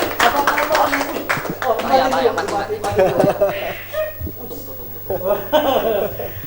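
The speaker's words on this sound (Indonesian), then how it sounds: "tepuk tangan dulu dong" A studio audience claps briefly and unevenly, mixed with chuckles and laughter, while people keep talking over it.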